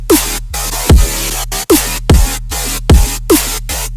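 Dubstep synth bass built in Serum, a growling, gated wall of sound pulsing in choppy bursts with punchy kick hits and a deep sub bass underneath, loud and alone.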